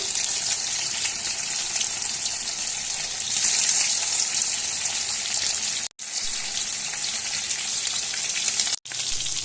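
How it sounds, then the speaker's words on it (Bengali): Sea fish frying in mustard oil gives a steady, loud, hissing sizzle that runs almost unbroken, with two brief cuts near the end and no talking. "এবার আমি মাছগুলো ভেজে নিচ্ছি।"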